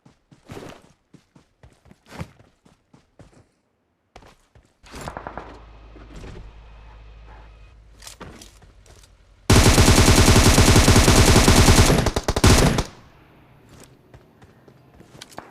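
Gunfire in the mobile game Battlegrounds Mobile India: scattered single shots and footsteps, then a loud, dense automatic burst of about three seconds, followed by more sparse shots.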